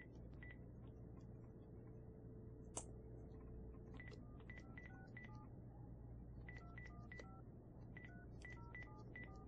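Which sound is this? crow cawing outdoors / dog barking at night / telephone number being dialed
telephone number being dialed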